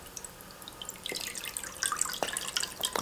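Refrigerated seaweed soup pours out of its container, a quiet liquid splash and trickle that grows louder after the first second, with small drips and clinks.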